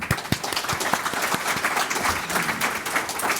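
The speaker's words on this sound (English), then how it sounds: "give him a warm hand of applause, please" A conference round-table audience gives steady applause as a panelist, a company CEO, is introduced. The clapping is dense and sustained with a few sharp near claps at the start, fairly loud and heard without speech.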